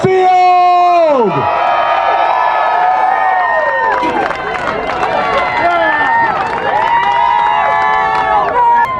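Formula Drift Pro Championship crowd at Long Beach whooping and cheering loudly and continuously, with close voices shouting over the roar throughout.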